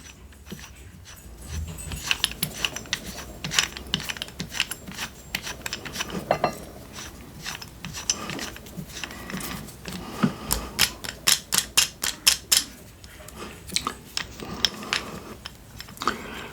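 A hand-operated ratchet tube cutter for larger tubes clicks and rasps as it is turned, making irregular bursts of close, crisp mechanical ticks that turn into a quick run of sharp clicks near the end.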